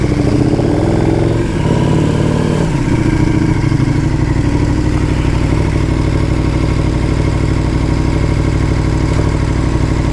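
A motorcycle engine runs steadily and loud up close while the bike is ridden in track mode, a continuous droning rumble with a brief dip in pitch early on before settling into an even, sustained roar.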